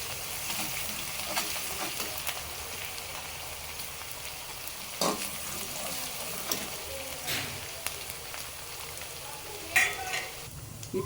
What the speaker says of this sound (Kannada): ಚೆನ್ನಾಗಿ ಗರಿ ಆಗೋವರೆಗೂ ಫ್ರೈ ಮಾಡಬೇಕು.